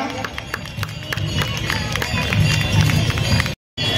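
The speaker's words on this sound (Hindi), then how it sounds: "जोरदार तालियों के साथ कीजिए" Audience applause at a municipal corporation gathering for a subedar major, scattered claps and crowd noise building louder, then a brief cut to silence before resuming.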